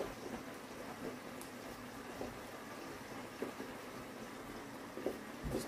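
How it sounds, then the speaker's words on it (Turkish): Water boiling in a pot on a home kitchen stove, a faint continuous bubbling hiss with occasional small pops and clinks. "Suyum da kaynıyor."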